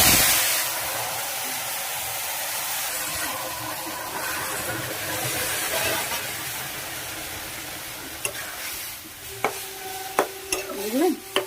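Pumpkin stalk curry goes into hot tempered oil with a loud burst of sizzling that settles into a steady hiss, followed by stirring scrapes and a few sharp clinks of a spoon against the pan.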